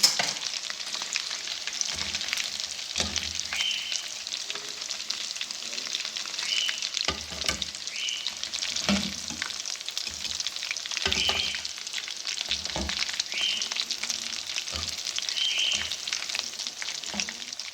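Buffalo chicken wings fry in hot oil, a close, steady sizzle and crackle broken by occasional clinks and stirring knocks, with no talk.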